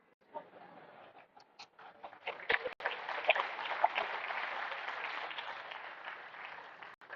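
An audience at a motivational talk on overcoming overthinking breaks into applause, starting with scattered claps and swelling into sustained, even clapping that holds for several seconds before tapering.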